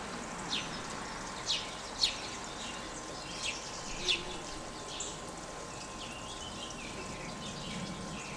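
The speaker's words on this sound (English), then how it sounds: "Continue to hear the titmouse singing Peter, Peter." Titmouse song at busy springtime bird feeders: a few short, bright whistled notes repeated at irregular intervals, moderately distant over a steady outdoor hum.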